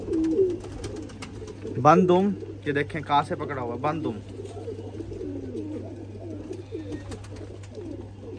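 Pet pigeons cooing close by, soft repeated throaty coos rising and falling while someone talks over them in the foreground.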